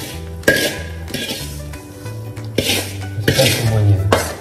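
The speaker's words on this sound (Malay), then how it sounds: "Jadi kita masukkan bawang goreng yang telah kita goreng tadi ya ke dalam ni." Fried shallots tipped into a pot of bone soup, with sharp metallic clanks of a utensil against the pot and scraping stirs in a home kitchen, close and repeated throughout.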